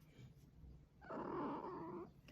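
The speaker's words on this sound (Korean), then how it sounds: "저 이제 고양이가 계속 놀아달라고 보채네요" A cat meows once, a drawn-out, whiny cry lasting about a second, close by in a quiet room.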